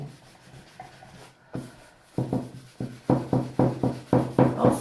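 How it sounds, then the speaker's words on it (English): Sandpaper rubs back and forth over a cured resin coat in quick, rhythmic strokes, faint at first, then growing louder and more regular as a brisk series of scratchy passes. "so I want to be quick with the sanding"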